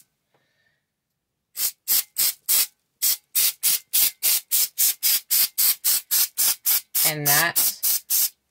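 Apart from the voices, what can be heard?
spray painting faux granite onto countertop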